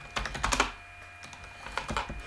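Terminal commands being typed on a computer keyboard, with short bursts of crisp key clicks separated by brief pauses, close and clear with no talking.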